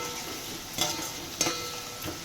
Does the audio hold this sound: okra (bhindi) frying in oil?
yes